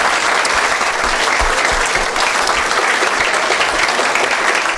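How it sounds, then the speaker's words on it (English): A room full of people at a community award gathering breaks into sustained, dense applause, steady and loud throughout with no pause. "let's give everybody in this room a round of applause"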